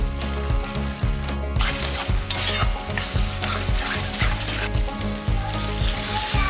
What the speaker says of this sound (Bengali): পেঁয়াজ আর আদা রসুনটা ভালো করে নাড়াচাড়া করে নিয়ে এবার এই যে পেস্টটা বানিয়েছিলাম এই পেস্টটা অ্যাড করছি